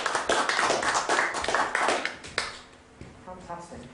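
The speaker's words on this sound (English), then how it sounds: "Give these 4 people a round of applause as they make their way towards the stage." An audience applauds as four volunteers walk up to the stage at a live comedy mind-reading show, giving a burst of dense clapping that fades out after a couple of seconds, with a few scattered claps and a voice following.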